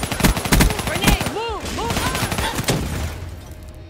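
Close, loud rapid gunfire from a favored gun in Call of Duty Black Ops 3 rattles in quick bursts, then gives way to softer game effects as it fades.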